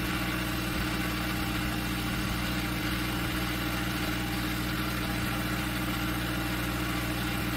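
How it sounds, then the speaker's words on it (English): Flywheel spun by a small DC motor at about 3600 RPM, part of a flywheel energy storage rig: a steady, smooth mechanical hum with low tonal drone, constant and close, no talk. "Flywheel RPM reached 3600 with smooth operation."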